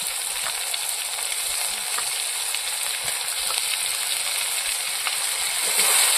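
Masala spices with sour yogurt sizzle steadily in a pan while cooking a Bengali green banana fish curry, a continuous close frying hiss with faint scraping stirs, no voices.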